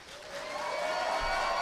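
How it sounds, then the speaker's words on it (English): An audience at a Mystery Science Theater 3000 panel applauds the two Tom Servo performers, a steady wash of clapping that swells and holds loud across the moment. "give a big round of applause to our two Tom Servos"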